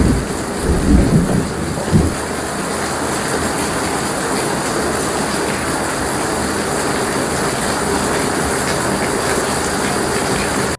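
Heavy rain pours in a steady, dense roar over a village, with a few low thunder rumbles near the start before the downpour continues evenly.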